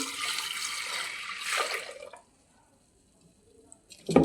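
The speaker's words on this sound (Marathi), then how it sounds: "या डाळीमध्ये शिजल इतकं पाणी टाकायचं आहे" Water pours steadily onto washed lentils for about two seconds, then stops, followed by near silence and a brief clatter at the end.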